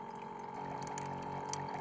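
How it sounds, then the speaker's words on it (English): An electric water pump runs steadily while filling a coffee pot at a campsite in the Great Smoky Mountains, giving a continuous close hum over rushing water for the whole stretch. "I've got an electric pump right here for my water."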